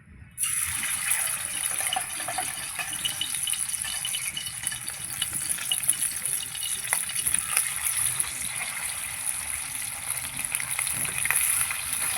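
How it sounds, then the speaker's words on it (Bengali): Bata fish fry in well-heated oil, a dense, loud crackling sizzle that bursts in abruptly and then holds steady and close throughout, with no talk. "মাছগুলো ভেজে নেব।"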